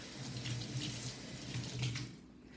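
Water runs steadily from a kitchen tap while green onions are rinsed under it, a close, continuous splashing stream that tapers off at the end.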